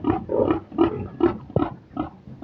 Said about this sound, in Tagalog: Na dire baboy.